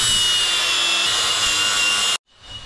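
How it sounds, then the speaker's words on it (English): An angle grinder shapes a metal front suspension A-arm for a 50 HP Power Wheel build, a loud steady grinding whine that runs continuously for about two seconds, then cuts off abruptly and begins spinning back up. "Now we'll shape the rest with the grinder."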